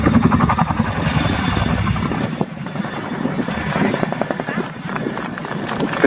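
Chinook helicopter flying at the RAF Cosford air show, a loud continuous rotor thump and engine roar throughout, with a commentator talking over the public address.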